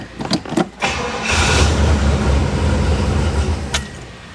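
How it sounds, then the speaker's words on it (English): A 1968 Pontiac Tempest with a freshly cleaned, fuel-dry carburetor, clicks and brief cranking followed by the engine catching and settling into a loud, close, steady idle rumble. "So let's give her a shot. She's not going to start up right away."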